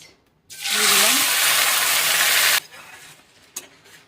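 Dry red chillies and bay leaf dropped into hot oil for tempering burst into a loud, bright sizzle that holds for about two seconds, then cuts back to quiet kitchen sounds with a small clink.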